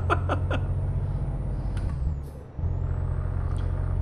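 A truck braking hard in a driving video game after clipping a toll booth, with a loud, steady low engine rumble that cuts out briefly in a hiss-like air-brake release before resuming, a few short bright clicks early on.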